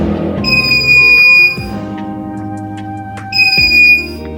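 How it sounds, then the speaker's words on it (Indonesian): An electronic buzzer sounds twice in short shrill bursts, separated by a pause with a low hum underneath. "buzzer dapat berbunyi"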